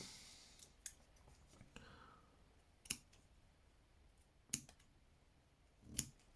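Fiskars scissors snipping through paracord, producing a handful of sharp, quiet clicks and crunches spaced unevenly, close up and isolated against near silence.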